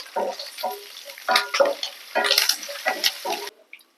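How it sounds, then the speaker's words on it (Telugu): Peanuts, urad dal, cumin and curry leaves fry in a hot pan, with repeated stirring scrapes over a steady sizzle, close and moderately loud, with no talking. "ఇప్పుడు ఒక స్పూన్ జీలకర్ర ఒక రెమ్ కరివేపాకు వేసుకొని ఫ్రై చేసుకోవాలి"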